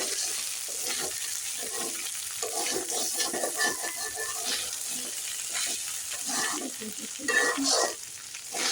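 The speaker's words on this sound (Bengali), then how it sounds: "ওইদিকে আম্মুর ছোলা ভাজা অলমোস্ট ডান।" Chickpeas fry in a pan for homemade iftar, a loud, busy sizzle with scraping stir strokes close by, rising and falling as they are turned, with no voices.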